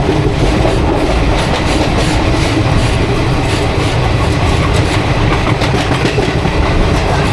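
Teesta Torsha Express passenger train running, heard from a 2AC coach, gives a loud, steady rumble with continuous clickety-clack of wheels on rails throughout.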